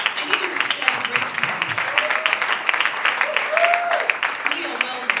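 A crowd at a celebrity gathering claps for Moyo, sustained loud applause from many people with faint voices and a few cheers threaded through it.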